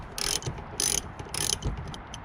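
A 12mm ratchet backs out plastic-rubber style tail light bolts on a box Chevy Caprice, with three quick bursts of clicking separated by short pauses and softer handling noises between them.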